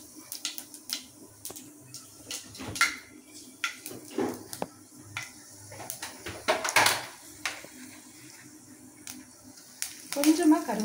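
Fenugreek seeds sizzle in hot oil for a fish curry, giving scattered crackles and pops against quiet background clatter, with a louder burst near the end.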